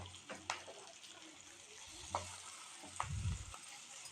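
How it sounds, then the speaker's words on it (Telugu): Onion, turmeric and green chilli masala sizzles steadily in a pan for radish fry, with a few close clinks and scrapes of a spoon stirring it. "అది పచ్చివాసన పోయేంత వరకు వేయించుకుందాము."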